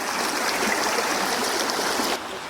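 A cold mountain creek near Goat Creek in the Sawtooth Mountains wilderness rushes close by in a steady, loud broadband wash that drops slightly at the very end.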